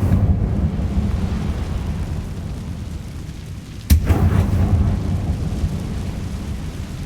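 An Incendio fire spell cast in the video game Hogwarts Legacy erupts as a single sudden burst partway through, rising out of a steady, dense rumbling ambience that continues before and after.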